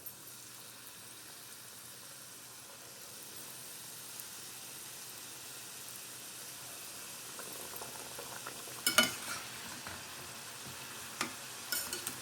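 Pieces of gorumitilu dough frying in oil for a Sankranti sweet, a soft continuous bubbling sizzle at low level, growing a little busier later with a few brief clinks and stirring noises.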